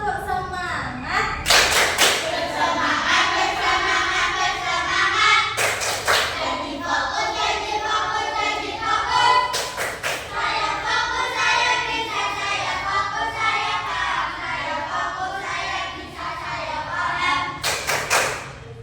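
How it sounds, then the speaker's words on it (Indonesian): A group performs a rhythmic cheer clap (tepuk semangat) in a classroom-style session, with bursts of sharp patterned claps and thuds recurring under continuous children's and adult voices. "Satu, dua, tiga, tepuk semangat."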